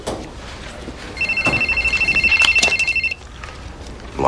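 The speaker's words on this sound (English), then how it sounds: "Your cell phone. It's ringing." A cell phone rings with an electronic trilling tone, repeating rapidly for about two seconds at a moderate level before stopping, set against quiet room ambience.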